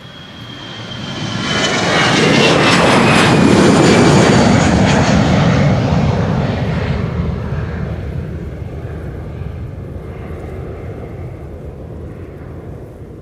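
An Airbus A320 passenger jet of Iberia passes at Amsterdam Schiphol Airport, a loud engine roar building over the first seconds, peaking mid-clip with a high whine, then fading to a broad distant rumble.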